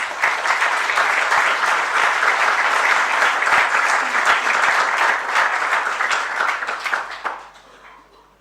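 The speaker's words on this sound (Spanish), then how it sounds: "para quien les solicito un nuevo aplauso" A large audience at the opening of an ecology congress applauds after the opening speech, a dense, sustained wash of clapping that fades out near the end.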